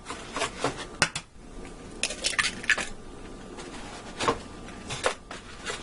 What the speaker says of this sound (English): now I'm going to crack 8 eggs into a large bowl, and I'm going to beat them up